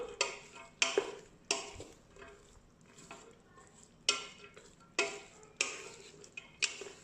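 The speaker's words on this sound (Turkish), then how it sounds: "şevketi bostanları içine aktarıyorum. Ve bir 10 dakikada bu şekilde kavuracağım." Kenger (şevketi bostan) greens are sautéed in a pan, with about nine sharp, rhythmic scrapes of a spoon against the pan over a faint sizzle. The sound is close, and no one speaks.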